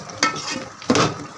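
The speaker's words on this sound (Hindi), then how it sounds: "अब मैं इसको अच्छे से मिक्स करके इसको कर लूँगी थोड़ा सा सौते" Shredded boiled chicken being stirred and sautéed in a pan, with two brief scraping clatters of a spoon against the pan over a soft, steady sizzle.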